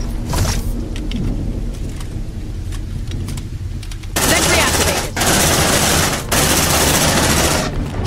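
An automated sentry gun in the game Aliens: Dark Descent opens up with sustained, loud machine-gun fire in three long bursts, split by short pauses, over a rumbling background with faint chatter.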